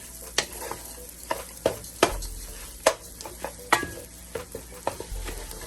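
Parboiled rice being toasted and stirred in a pan, with a steady low sizzle broken by repeated sharp scrapes and clacks of a utensil against the pan, close and moderately loud, no voices.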